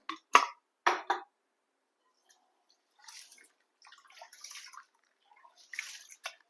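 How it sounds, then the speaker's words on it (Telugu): Six glasses of basmati rice are washed in water in a kitchen before soaking, giving two short splashing swishes, a pause, then a longer run of softer sloshing and trickling, close and fairly quiet, with no talking. "వాటర్ వేసుకుందాం"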